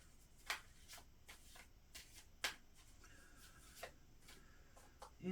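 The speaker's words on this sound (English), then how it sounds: "think of your question while I lay the cards" Tarot cards being laid out one at a time on a table, giving a few soft, spaced flicks and taps against a quiet background, with no talking.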